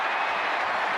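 A capacity stadium crowd at a UCF vs Texas Tech college football game roars in a dense, continuous wash of cheering and applause.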